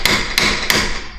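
Three sharp, evenly spaced hammer blows ring against a steel wrench, close and loud, each strike leaving a short metallic decay.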